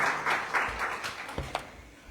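A short burst of audience applause at a housing ministry seminar on industrialized housing in Chile's O'Higgins region, scattered clapping that thins out and fades toward the end.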